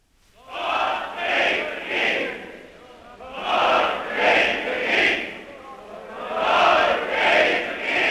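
Crowds cheering along a royal coronation procession to Westminster Abbey in 1937, a roaring mass of voices rising and falling in repeated swells, with shouts carried over old, slightly muffled recording.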